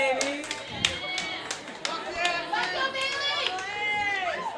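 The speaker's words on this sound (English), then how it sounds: "Round of applause for Emily." Scattered applause from a comedy roast-battle audience, uneven claps and whoops mixed with crowd chatter and laughter while voices talk over it.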